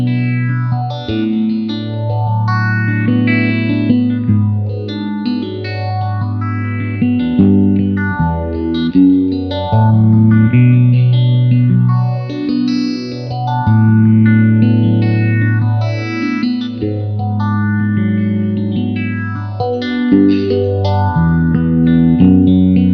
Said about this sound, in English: And a gorgeous sounding phaser pedal.